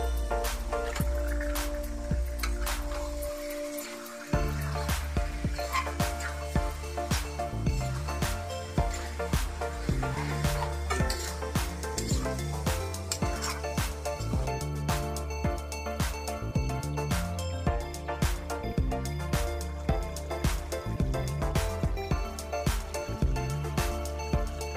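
Chicken pieces added to a pan of cooked tomatoes after a rub of turmeric and salt, giving a steady wet squishing sizzle with soft repeated stirring and scraping, close and continuous throughout with no talk.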